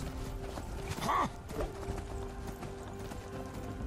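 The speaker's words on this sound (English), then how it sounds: "And there's a horse!" Horse hooves clip-clop in Skyrim, a few quick hoof strikes with a brief whinny-like cry, heard at moderate volume over ambient game sound.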